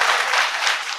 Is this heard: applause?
yes